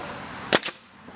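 A nail gun driving nails into wood while building a shed beside a workshop: two sharp, close pneumatic cracks in quick succession, alone with no talk.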